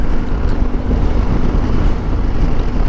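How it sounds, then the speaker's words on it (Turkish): Loud, steady wind roar buffets the microphone continuously on a moving motorcycle with a tailwind, a dense rushing noise with a low rumble underneath. "Rüzgar hep arkadan esiyor."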